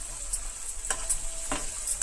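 Tempering spices sizzle and fry in a pan for semolina, a steady close hiss with a few brief stirring scrapes and pops, no talking.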